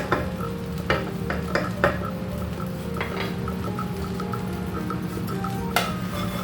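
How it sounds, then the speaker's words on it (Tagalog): Pineapple fried rice stir-fries in a pan with a constant low sizzle, broken by scattered scrapes and metallic clinks of a spatula or spoon against the pan, close up and with no talking. "luto na ang ating fried rice. Pineapple fried rice."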